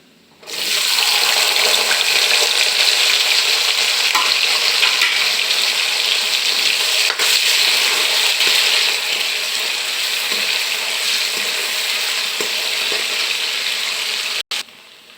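Potatoes and onions frying in a pan, a loud, dense, steady hiss that starts abruptly, holds unbroken for about fourteen seconds and then cuts off sharply, with no voices.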